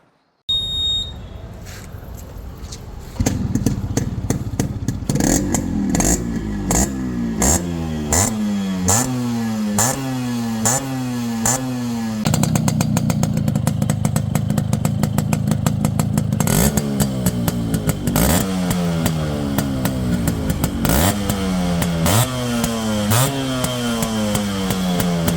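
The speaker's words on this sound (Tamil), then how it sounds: "இப்போ இந்த வண்டியோட பீட் சவுண்டு கேட்கலாம் வாங்க." A restored motorcycle engine runs steadily on its own with a loud, continuous beat, its pitch rising and falling through repeated revs in waves.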